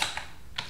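A few quick, crisp keystrokes on a computer keyboard, faint and close, in a short burst with a brief pause between taps.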